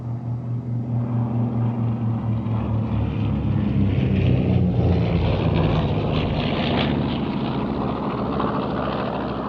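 Radial piston engines of a 1945 North American B-25J bomber drone loudly and steadily, with a pulsing low rumble and a rising roar partway through, heard up close without talk.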